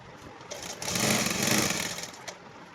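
A sewing machine motor hums steadily as it stitches a flat collar onto suit fabric. It runs for about one and a half seconds, fairly close, between quieter handling sounds.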